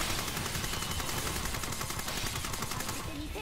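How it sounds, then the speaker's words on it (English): Dense, continuous automatic gunfire in the shooter game SAO Fatal Bullet, rapid loud rattling shots that keep up without pause, close and steady throughout. "I'm fine to shoot him."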